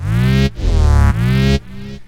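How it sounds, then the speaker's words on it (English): Synth plugin with wide portamento: loud, bright tones sliding smoothly up and down between notes in a few long gliding phrases, close and alone. "Portamento sounds like this."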